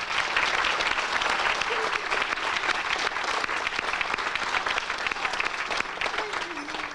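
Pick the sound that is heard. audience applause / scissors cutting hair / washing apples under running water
audience applause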